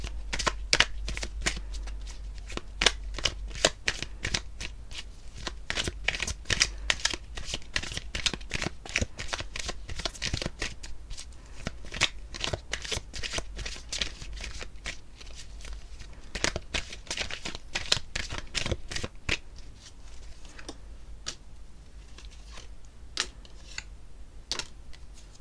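Tarot cards are shuffled by hand to draw an extra card, giving a rapid, dense run of crisp riffling snaps and flutters that keeps going close by and thins out toward the end.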